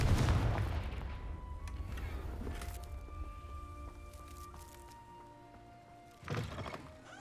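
A Confringo spell blast in Hogwarts Legacy, a single heavy booming impact up front that decays into a long ringing tail, with a smaller thump following near the end.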